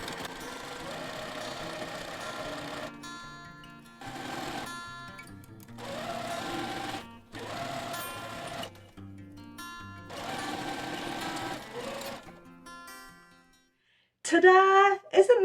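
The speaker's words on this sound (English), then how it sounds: "sewing along that whole edge" A sewing machine stitches a quilt seam along an edge, running in steady whirring bursts of a few seconds separated by brief pauses, close and clear, with a short voice at the very end.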